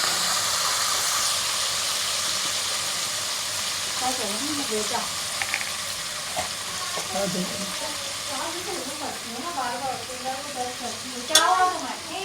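Chicken fries in a pot with a continuous sizzling hiss, punctuated by scraping stirs and a few clinks as the pieces are moved around, fairly close and moderate in volume.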